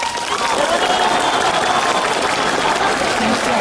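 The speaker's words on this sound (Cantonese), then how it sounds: "拍下手掌唔該" A stand-up comedy audience claps on request, a dense, continuous burst of applause from a full room lasting a few seconds, with faint crowd murmur mixed in.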